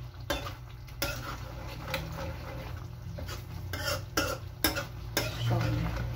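A utensil stirs binagoongan, Filipino pork in shrimp paste with chilies, around a pan, giving steady scraping and clinking over a continuous low sizzle, close and fairly loud, with no talking.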